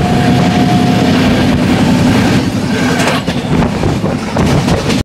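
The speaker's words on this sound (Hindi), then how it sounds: "यहाँ पे स्किप कर रही भाई फतवा जंक्शन को हमारी राजेंद्र नगर गोड्डा एक्सप्रेस। और अपनी रफ्तार में भाई चल रही है" The Rajendra Nagar - Godda Express passenger train runs at speed past a junction, heard from inside a general coach: a loud, continuous rumble with rattling wheel clatter and wind noise, with no voices.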